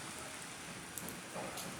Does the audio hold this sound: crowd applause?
no